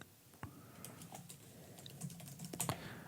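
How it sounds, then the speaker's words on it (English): Keys clatter on a computer keyboard in a quiet room, a brisk run of close, crisp taps with uneven rhythm and a few sharper strokes. "I'm typing what it gave me"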